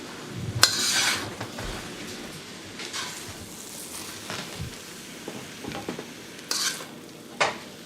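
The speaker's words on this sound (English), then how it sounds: "So give the rice cakes a final stir fry." Chinese rice cakes with pork and vegetables stir-fried in a wok, a steady sizzle broken by repeated scraping strokes and metallic clanks of the spatula against the pan, loud and close with no talking.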